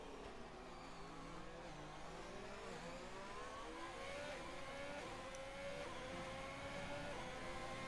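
Formula 1 race cars in the video game F1 2020, engines whining and rising in pitch together as they accelerate, a continuous layered drone at moderate distance with no talk.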